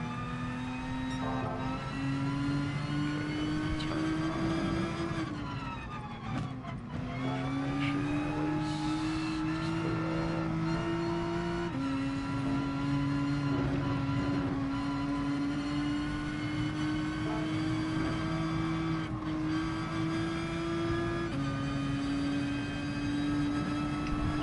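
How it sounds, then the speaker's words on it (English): A Honda NSX engine drifting in Gran Turismo Sport holds a steady high rev, repeatedly climbing in pitch through gears with brief dips, continuous and loud throughout with faint tire noise beneath. "Break and drift with the NSX, I will drift."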